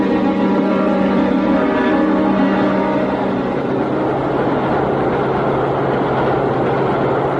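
A subway train rumbles steadily with a broad, loud roar, tonal hums fading into rolling wheel and track noise as it moves, with no voices over it.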